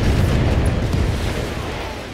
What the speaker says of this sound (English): we'll just fire half of our missiles to save some ammo